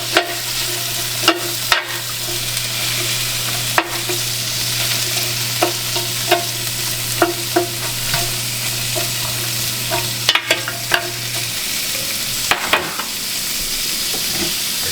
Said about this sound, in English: Stir it around some.